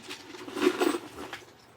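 A homemade rainstick filled with small metal pieces and rocks is shaken once, giving a brief, soft pattering rattle that swells in the middle and fades out.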